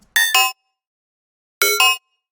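A synth sound run through an erosion effect in sine mode at full amount and maximum frequency gives two loud, clangy, bell-like double hits, each pair of tones sharp and bright, separated by a short silence.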